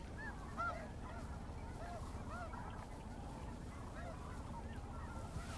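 Geese honking repeatedly at Merced National Wildlife Refuge, a steady chorus of overlapping calls from nearby and farther off, set over a low rumble of wind and ambient noise.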